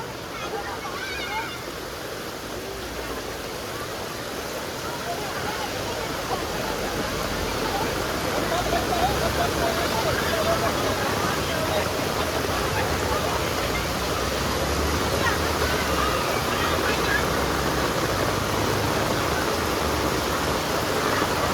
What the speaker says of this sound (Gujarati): એટલો ધોધમાર વરસાદ પડે છે ભાઈ